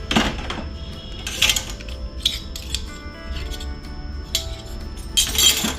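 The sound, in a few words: dishes and utensils clinking as they are handled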